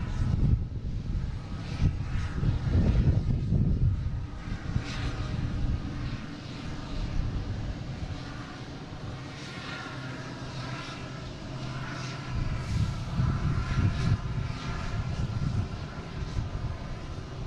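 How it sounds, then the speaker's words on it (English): A JetBlue Airbus A321 jet arriving from LAX at Boston Logan airport gives a steady, moderately loud engine roar that swells near the start and again toward the end. "We've got an A321 JetBlue coming in from LAX."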